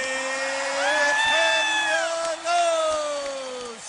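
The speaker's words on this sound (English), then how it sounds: "Listen to the crowd." A boxing arena crowd roars and cheers after the final bell of a world title bout, a loud sustained swell of voices with whoops, partly under a ring announcer's amplified voice.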